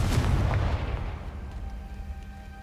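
A booming blast from the Confringo spell in the video game Hogwarts Legacy, a loud explosive burst that fades over a couple of seconds with a lingering low rumble.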